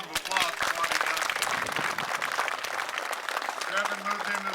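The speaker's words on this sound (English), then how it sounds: "Let's give him a round of applause for what he does." Audience applause for a man being honored at a community event, steady clapping throughout with some voices mixed in beneath it.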